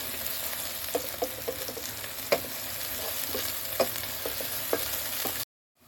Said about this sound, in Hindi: अब प्याज को अच्छी तरह से भून लेंगे।